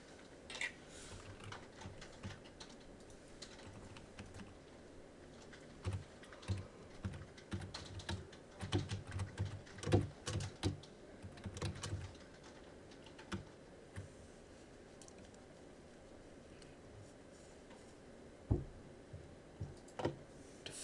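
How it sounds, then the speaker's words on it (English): Steady typing on a computer keyboard during a coding session, with irregular bursts of quick key clicks and clacks close to the microphone, running alone for about twenty seconds with no voices. "I don't want to type too quickly"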